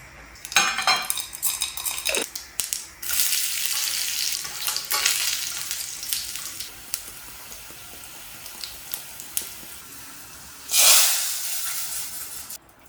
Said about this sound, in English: make a tadka with a tablespoon of oil, half a teaspoon of mustard seeds, 4 garlic cloves that I have chopped